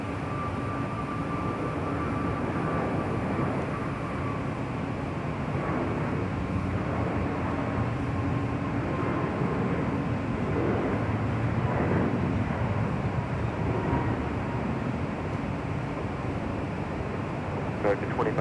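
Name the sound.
American Airlines A321neo taking off, south side of LAX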